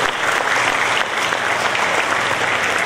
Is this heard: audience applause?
yes